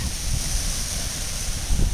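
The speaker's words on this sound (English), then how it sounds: "now I am at the base of the waterfall" Roar of a waterfall in southern Iceland heard from near its base, a steady broadband rush with heavy low wind buffeting on the microphone throughout.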